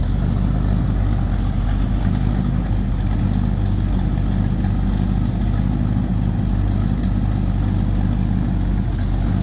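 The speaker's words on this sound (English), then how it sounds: "It's a nice deep throaty exhaust note" A 1941 Chevrolet two-door sedan street rod idles with a deep, throaty exhaust note, a steady low rumble held close and even throughout with no voices.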